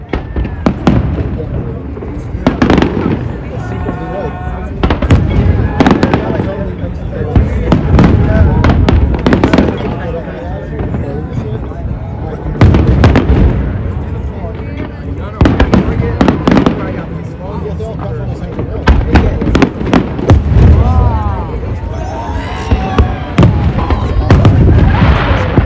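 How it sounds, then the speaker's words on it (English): Independence Day fireworks display after dark, with repeated loud booming bursts and crackling explosions in irregular clusters across the whole stretch, heard under a narrator's voice. "fireworks displays occur in the evening after dark"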